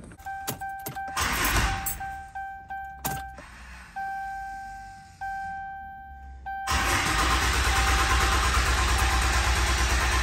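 A small engine just refueled after its fuel was pumped, several sharp starting pulls and sputters cut by steady tones, then catching and running loud and continuous for the last few seconds, close up with no talking.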